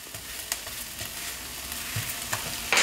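Apple pieces are stirred in a sizzling frying pan, spatula scrapes and clacks landing every half second or so over a continuous hiss of frying, close up and with no voice.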